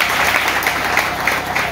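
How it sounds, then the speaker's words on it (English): Secondary school students in a crowd clapping steadily throughout, a dense, even applause filling the whole moment without pause. "You are here. Clap for yourself, man."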